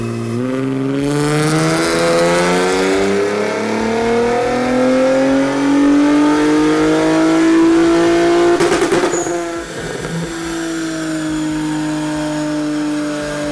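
A turbocharged car on a stock turbo, fitted with full downpipes and a 3-inch ISR single exhaust, revs hard and loud on a dyno at a Southern California dyno day, its engine pitch sweeping steadily upward before a sharp crackle and drop.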